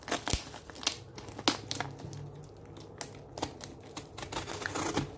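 A cardboard parcel is cut open with crisp rips, crinkling and sharp snapping taps at close range. The sounds come in irregular bursts over soft rustling, with no talk.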